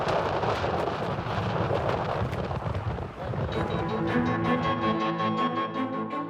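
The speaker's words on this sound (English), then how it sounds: "Now, we just need to hunker down and ride out this ferocious storm." A ferocious night thunderstorm over tents pitched near a volcano, with a heavy roar of rain and rumbling thunder that eases partway through as steady music rises in its place.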